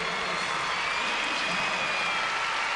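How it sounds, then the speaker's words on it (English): Crowd at a 1998 professional gymnastics championship applauding and cheering steadily, a dense continuous roar of clapping throughout with no clear talk on top. "The crowd on their feet, chanting for another 10."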